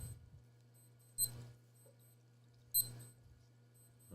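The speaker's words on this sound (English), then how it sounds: "you guys hear all that beeping" A wristwatch alarm beeps in two short bursts of bright high-pitched tones about a second and a half apart, over a steady low electrical hum in a quiet room.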